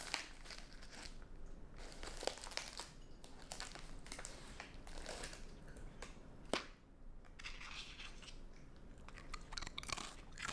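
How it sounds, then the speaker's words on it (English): An animal crunches Parmesan goldfish crackers, bite after bite, in a steady run of close, crisp chewing crunches with brief pauses and no talk. "Bite after bite, crunch after crunch, she goes after those Parmesan crackers."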